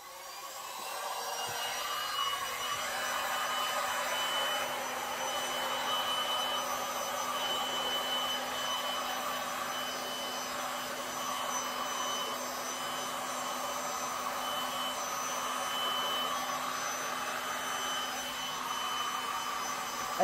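Air blown over wet resin on a clear acrylic tray, a continuous steady whooshing hum like a small blower, close and even for the whole stretch, with a faint tonal whine and no voices.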